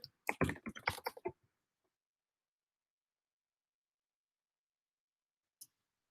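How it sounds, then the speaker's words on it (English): Fingers type on a computer keyboard in one quick flurry of close, light key clicks, then near silence broken by a single later tap. "I'm immediately going to type in there"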